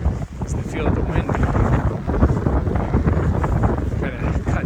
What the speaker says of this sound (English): They say this wind feels great.